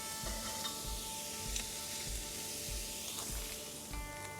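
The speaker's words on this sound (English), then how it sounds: "As soon as that wood burns down a little bit, patty's going to hit the grill. Get that patty down." A beef burger patty sizzles on a charcoal grill fired with oak wood chunks, giving a steady close crackle and hiss with soft repeated pops throughout and no talking.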